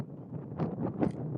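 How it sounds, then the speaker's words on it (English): Wind rushes against the microphone in gusty, rising swells, fairly loud and steady, as a vehicle heads out into fog. "It's going to get kind of windy."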